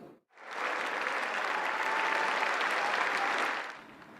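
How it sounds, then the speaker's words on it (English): A legislative chamber full of people bursts into loud, sustained applause that swells quickly, holds steady for a few seconds, then tapers off. "Governor Walz entered the chambers tonight to loud applause from Democrats and polite applause from Republicans"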